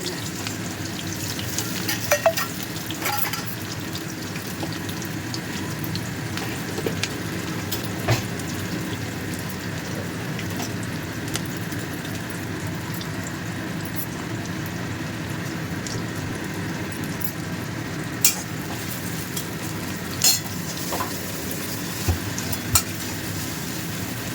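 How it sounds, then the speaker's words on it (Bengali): Onions fry in a pan with a continuous close sizzle and crackle, plus occasional sharp pops and light stirring scrapes over a steady hiss. "পেঁয়াজগুলো একদম লাল লাল করে ভেজে এই পেস্টটা দিয়েছি।"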